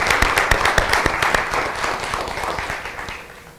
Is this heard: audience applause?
yes